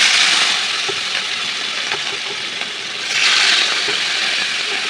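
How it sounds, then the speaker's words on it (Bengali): Katla fish fries in very hot oil in a wok, giving a loud, steady hiss of sizzling close up that swells again partway through. "তেলটা অনেক তেতে গিয়েছে এখন মাছগুলো দিয়ে দিব"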